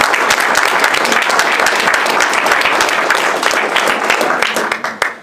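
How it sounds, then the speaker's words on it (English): Crowd applause for wildfire suppression workers at a community wildfire meeting, loud dense clapping from a room full of people, sustained and even before thinning into scattered claps at the close. "I would love for everybody to give them a round of applause for the phenomenal work they do"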